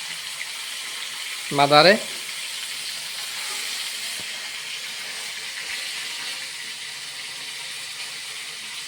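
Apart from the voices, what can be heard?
fish frying in a pan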